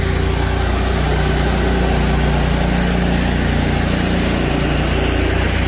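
A grain auger runs steadily while treating seed on a farm, giving a continuous close mechanical engine drone with a low hum and no break or change across the stretch.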